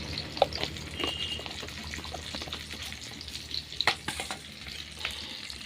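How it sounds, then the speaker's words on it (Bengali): Vegetables frying in a pan for a Bengali dish seasoned with panch phoron, a steady close sizzle with occasional stirring scrapes and small pops, no voices. "তো সবজিগুলো ভেজে নেবো ভালো করে।"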